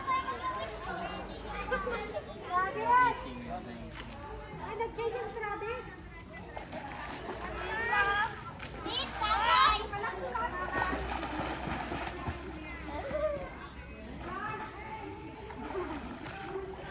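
Children play and splash in water outdoors, with shrieks, shouts and chatter in Tagalog, and intermittent splashing under the lively voices throughout.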